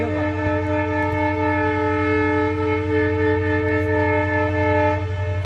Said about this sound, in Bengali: ট্রেন আসছে আবার